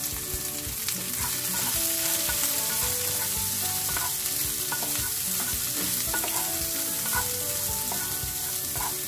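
Green beans with chili powder, turmeric and pepper stir-fried in a pan, giving a loud, steady crackling sizzle throughout, mixed with the scrape and rattle of stirring.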